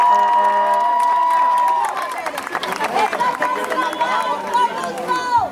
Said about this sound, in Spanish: y eso se merece un fuerte aplauso.